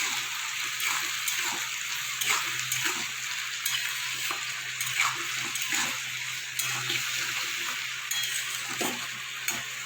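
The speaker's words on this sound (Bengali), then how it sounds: "সামান্য একটু জল দিয়ে দেবো" A splash of water goes into a hot pan of sizzling onions, ginger, garlic and green chillies for Bengali egg curry, giving a steady close hiss and bubbling with light stirring clicks throughout, no voices.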